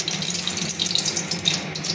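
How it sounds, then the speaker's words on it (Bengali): Mustard oil pouring steadily into a wok, a continuous close liquid stream with a hissy, splashing texture and no talking. "প্রথমে কড়াতে সর্ষের তেল দিলাম।"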